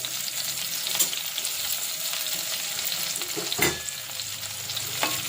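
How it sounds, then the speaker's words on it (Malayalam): Curry leaves with sliced ginger sauté in hot oil for a Kerala fish curry, giving a dense, steady crackling sizzle broken by a few louder spatters and spoon scrapes, with no talk. "കുറച്ച് കറിവേപ്പില നമ്മൾ നന്നായിട്ടൊന്ന് അതൊന്ന് വഴറ്റിയെടുക്കുവാണേ"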